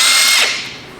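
A power tool takes out an intake manifold screw on an engine, making a short, loud, close whirring spin that winds down in under a second.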